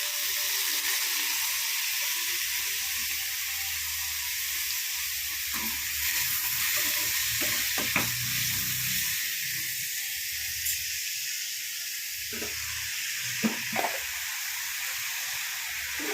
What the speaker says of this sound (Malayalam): ഈ കുറച്ച് ഉപ്പൂടെ ഇട്ട് കൊടുക്കാം അതിൽ ഉള്ളി പെട്ടെന്ന് വാടി കിട്ടും